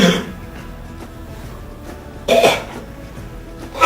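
Two short, harsh coughs, one around the middle and one at the very end, over a quiet room background.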